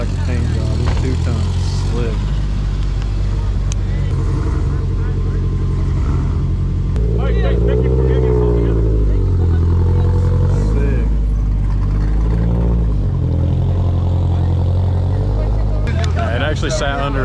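Cars at a car meet rev their engines, among them one with an MR2 motor, as a loud, constant, close drone that swells and dips in pitch. Nearby voices talk faintly under the engine noise.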